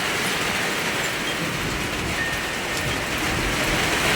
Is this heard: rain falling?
yes